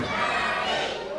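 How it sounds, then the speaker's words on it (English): A live wrestling event crowd roaring in support of a wrestler, a dense, loud, sustained cheer filling the hall for just over a second. "But listen to the crowd. They're so behind Danny Isit."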